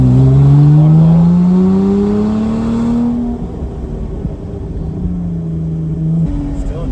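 Lotus sports car engine revving high in second gear on a mountain road near Fontana Dam, loud and close, with pitch sweeping up and down as revs climb and fall, then easing to a lower steady drone.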